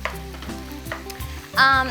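Chicken pieces with onions get stirred around a hot frying pan, a loud continuous sizzle with scraping strokes of a utensil and a sharp flare of spitting oil near the end.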